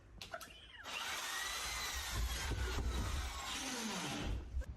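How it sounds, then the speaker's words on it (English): A power drill runs steadily for several seconds while boring a hole into a wall, a loud continuous whine with some rumble underneath, starting and stopping abruptly. "they tried to drill a hole in the wall using a different method."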